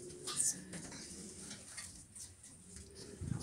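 Faint pigeons coo softly in the background amid low rustling, with no one talking.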